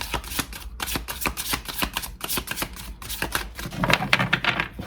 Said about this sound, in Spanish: Vamos a barajar cartas